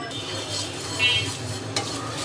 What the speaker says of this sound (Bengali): এটা একটু হালকা বাদামি কালার করে ভেজে নিব